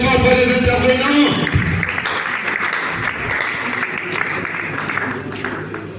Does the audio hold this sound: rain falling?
no